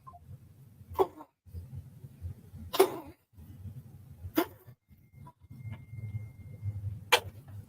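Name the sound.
sneeze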